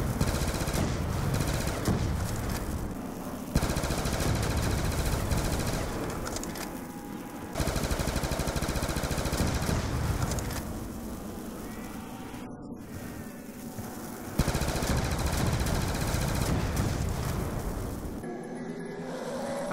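Bursts of automatic fire from the Strain 25, the Pack-a-Punched Type 25 rifle in Black Ops 2 zombies, rattling loud and continuous in long sustained volleys with brief gaps between strings.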